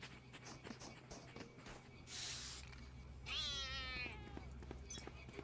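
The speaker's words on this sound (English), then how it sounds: "It had a sound of cat." A customized sticker in an esports video game plays a cat meow, a clear wavering meow preceded by a short hissing burst, heard faintly over steady game background noise.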